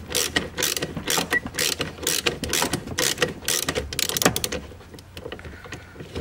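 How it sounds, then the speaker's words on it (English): Battery cable nut on a C7 Corvette being loosened with a ratchet, a rapid run of close, loud clicking pawl bursts that thins out near the end. "Now this nut here actually stays on the cable, so you're just loosening it up."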